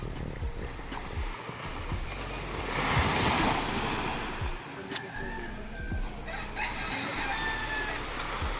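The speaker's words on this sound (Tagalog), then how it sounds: "Medyo malakas yung alon." Strong sea waves surge and crash steadily along a shore, loud and continuous, while a rooster crows in the background.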